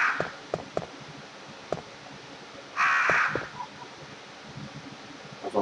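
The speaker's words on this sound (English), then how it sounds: "See, those crows, they do not like me." Crows in Resident Evil Director's Cut give a loud burst of harsh cawing midway, with scattered sharper caws and clicks before and after over a low, steady game ambience.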